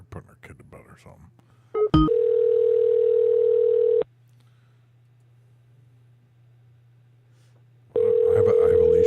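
A telephone ringback tone sounds while a number is being called: two long steady tones a few seconds apart, loud and clear, with a low hum between them and brief talk at the start.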